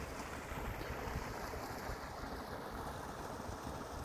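Water from the Toplik spring source streams past outdoors, a constant close rushing wash with no pauses or voices.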